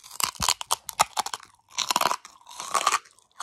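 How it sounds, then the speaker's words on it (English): Crispy Filipino lechon kawali, deep-fried pork belly, crunches loudly and up close in several quick bites followed by bursts of chewing, with no talking. "I cook lechon kawali for Thanksgiving, and you gotta listen to this crunch."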